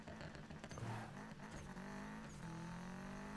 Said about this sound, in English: I love the acceleration on this car.